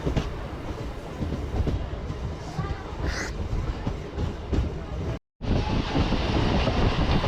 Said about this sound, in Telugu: రెండు నిమిషాలు ఆగి వెంటనే బయలుదేరుతుంది ట్రైన్